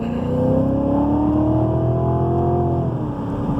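Engine of a 2016 Cadillac CTS-V climbing in pitch as it accelerates under moderate throttle, a steady, close, rising drone with whirring harmonics that levels off near the end.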